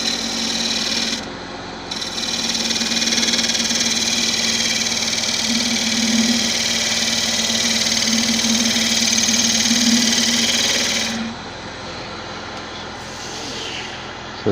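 A wood lathe turns a Malaysian acacia vase with a big knot, a sharpened gouge cutting a finishing pass as a steady motor hum and broadband scraping hiss run for about ten seconds before easing off.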